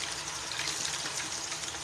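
Yam sizzles in a frying pan with steady dense hissing and crackling, close by and continuous with no talk.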